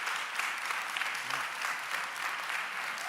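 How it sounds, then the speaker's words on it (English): A crowd keeps clapping for Kenny at the 2024 Youth Resilience Summit, the sustained applause staying full and even with slight swells and no one speaking over it. "let's give Kenny a round of applause"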